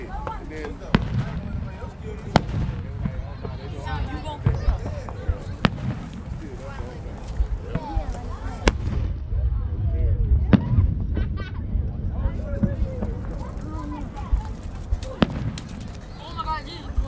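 Sharp fireworks bangs pop at irregular intervals, some nearby and some farther off, during a classic car show, while people chat and call out over them.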